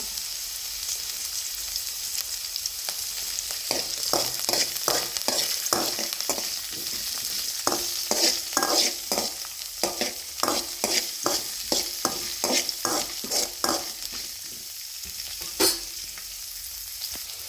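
Garlic, onion and curry leaves fry in a pan under a constant bright sizzle, while a spoon scrapes and stirs in quick, repeated strokes through most of the stretch.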